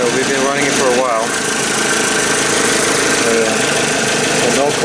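A Nissan forklift engine idles roughly with a steady, loud, uneven mechanical drone that runs unbroken throughout, with a voice faintly audible beneath it.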